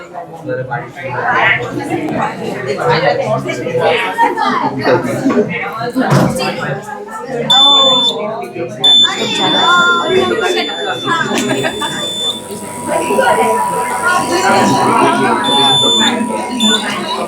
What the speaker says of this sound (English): When the fan disperses the smoke, the buzzer stops activating and shows that the air is clean and healthy.